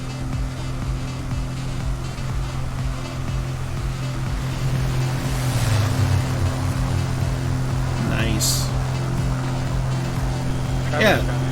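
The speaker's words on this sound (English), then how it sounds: "the engine is nice and loud from behind it, but it's really quiet when directly in front" A propeller aircraft engine from a Corsair in Microsoft Flight Simulator drones steadily and loudly throughout, with wind noise and a couple of brief whooshing sweeps passing over it.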